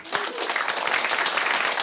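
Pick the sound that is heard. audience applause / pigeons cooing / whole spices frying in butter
audience applause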